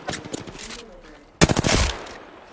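A video game fires rapid bursts of gunfire, a short rattling volley followed by a louder, heavier burst, close and punchy, with a voice faintly mixed in.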